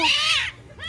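A cat gives a drawn-out, high meow, falls quiet briefly, then starts another meow close by.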